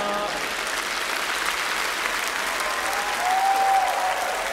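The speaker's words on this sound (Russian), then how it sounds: "слышите, не совсем бурные аплодисменты" A theatre audience at a comedy show gives steady, moderately loud applause that stays even throughout, with a faint voice briefly audible in the background.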